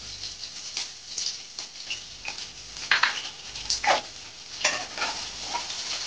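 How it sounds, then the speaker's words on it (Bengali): Chopped onion fries in hot oil in a home kitchen while chicken khichuri is cooked, giving a soft sizzle broken by several sharper scraping stirs of a spatula in the pan. "এবার আমি এর মধ্যে এই গরম তেলের মধ্যে পেঁয়াজ কুচিটা দিয়ে"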